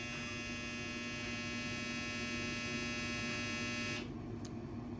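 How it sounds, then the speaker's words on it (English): A household clothes dryer runs with a steady electrical hum and buzz, constant and fairly loud, then briefly changes tone near the end. "That's our dryer."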